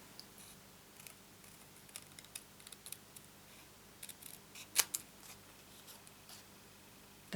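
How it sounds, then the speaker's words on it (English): Scissors snip paper stripes for a card-making project, a few quiet, sparse cuts close by with one sharper crisp snip, in an otherwise quiet room. "I just need to cut these stripes out"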